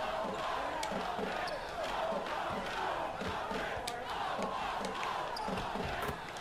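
Basketball arena crowd in NBA 2K17 roars steadily throughout, a dense cheering wash with sharp squeaks and thumps of play cutting through, while a voice talks over the game.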